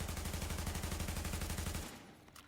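Rapid automatic fire from an AUG A3 rifle in the shooter game The Division, a steady stream of loud, evenly spaced shots lasting about two seconds before cutting off abruptly into quiet.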